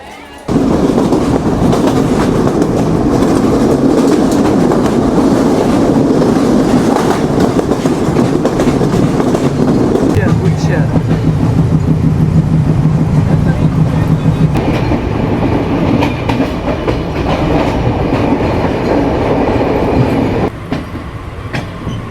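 A Sundarban Express neo coach rolls between Jashore and Khulna, a loud, close, continuous rumble with steady clickety-clack from the rails and faint voices inside the carriage.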